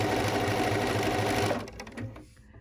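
Sewing machine quilting gentle curves with silk finish thread in the top and bobbin, a loud close continuous whir that runs steadily, then slows and stops near the end.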